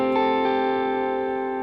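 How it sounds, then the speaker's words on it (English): Electric guitar through a BOSS GT1000 stereo rig with effect feedback turned up: a sustained, harmonically rich tone rings on steadily, with faint repeating echoes of a plucked attack trailing off early on. "give ourselves a bit of feedback"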